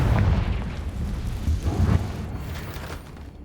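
A Confringo spell explodes in the Hogwarts Legacy video game, a loud, booming blast with heavy low rumble and a couple of follow-up bursts before fading into lingering crackle.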